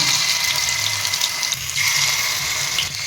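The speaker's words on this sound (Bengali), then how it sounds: "আমি সরষের তেল দিচ্ছি" Mustard oil pours in one steady, close gushing stream, a continuous liquid flow that barely wavers from start to finish while pitha is being made.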